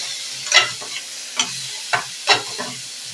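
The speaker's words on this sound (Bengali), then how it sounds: "দিয়ে আবারও একটু ভালো করে এই কুমড়োটাকে ভেজে নেব পোস্ত বাটা আর সাদা সর্ষে দিয়ে।" Pumpkin fries in a pan with poppy seed paste and white mustard while a spatula stirs it, giving several separate scraping strokes over a soft, steady sizzle, close and moderately loud.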